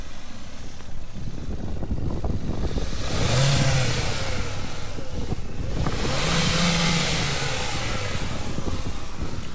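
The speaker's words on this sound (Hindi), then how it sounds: "अभी हम लोग इंजन स्टार्ट करके सुनाएंगे आपको।" A 2018 Hyundai Verna's engine runs after a push-button start, a loud, close mid-pitched hum that swells in two brief revs before settling back to a steady idle.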